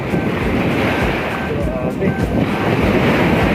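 Strong sea waves at a beach roll in a steady, loud roar of surf, with gusting wind buffeting the microphone throughout.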